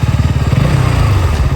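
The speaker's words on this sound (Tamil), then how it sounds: "நெக்ஸ்ட் இந்த வண்டியோட எக்ஸாஸ்ட் சவுண்டு கேட்டு பாருங்கள்" A KTM Duke 200 motorcycle's exhaust burbles loud and close in a steady, rapid low thrum at idle, with no voices over it.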